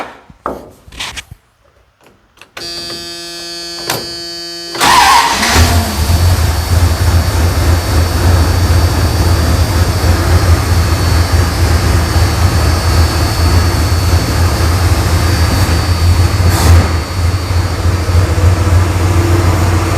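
A rebuilt, rusty 360 V8 is cold-started in a garage: a few seconds of clicks and a brief crank, then the engine catches and settles into a loud, steady, slightly rough idle that continues to the end.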